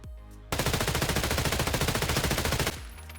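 An MPX submachine gun fires a rapid full-auto burst of roughly two seconds in Escape From Tarkov, loud and close, dense evenly spaced shots that cut off abruptly into a short ringing tail, with no talk.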